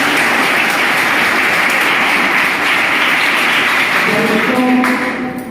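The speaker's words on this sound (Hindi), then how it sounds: "एक बार दीदी जी के लिए जोरदार ताली होनी चाहिए।" Applause from an audience at a Brahma Kumaris motivational talk at a national academy, a loud, dense wash of clapping that holds steady for several seconds before starting to fade, with some faint tonal sounds near the end.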